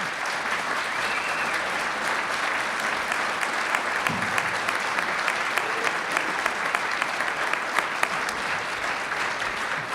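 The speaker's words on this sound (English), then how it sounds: "let's give them a round of applause" An audience at a Special Olympics Virginia awards celebration applauds law enforcement partners standing to be recognized, a long, steady round of crowd clapping with sharp individual claps poking through, with faint talk underneath.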